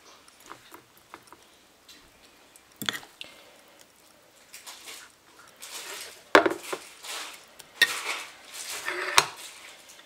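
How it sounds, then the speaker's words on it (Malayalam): Oats idli batter spooned into an oiled idli plate, with scattered clinks and scrapes of metal utensils on the plate, quiet at first and then busier, louder clatters toward the end. "സാധാരണ നമ്മൾ ഇഡ്ഡലി ഉണ്ടാക്കുന്ന പോലെ ബാറ്റർ ഒഴിച്ചു കൊടുക്കാം"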